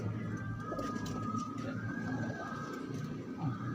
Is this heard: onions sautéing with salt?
no